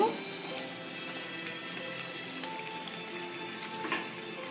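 Coconut neureos deep-frying in hot oil for a Goan Christmas sweet, giving a steady, close bubbling sizzle throughout with a few brighter crackles.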